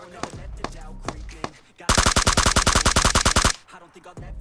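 A fast burst of automatic gunfire in the game BGMI on the Vikendi map, loud and close, rattling for under two seconds after quieter scattered shots and game noise.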